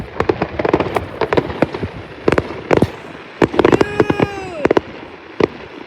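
Fireworks bursting at a Canada Day show, a rapid series of loud sharp bangs and crackles with some whistling trails, close by, while a voice briefly speaks between blasts.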